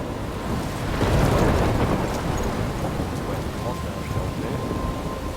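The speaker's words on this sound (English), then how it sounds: "I'm trapped in a storm?" A thunderstorm in the Life is Strange video game, with heavy continuous rain and wind and a deep rumble of thunder swelling early on, loud and enveloping.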